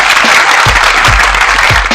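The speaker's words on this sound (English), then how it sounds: "let me give her a clap" Loud, dense applause fills the two seconds, a steady close wash of clapping with a low rhythmic thump underneath, no talk over it.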